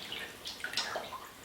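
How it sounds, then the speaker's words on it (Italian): Onion-dyed fabric is lifted from a soda bath and rinsed in a basin of water, giving soft irregular splashes and drips close by with no talking. "Estraggo il tessuto dal bagno con la soda, lo sciacquo più volte"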